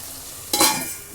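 Potatoes and spinach stirred in a pan give a sudden loud sizzle and scrape that fades back to a low frying hiss within a second.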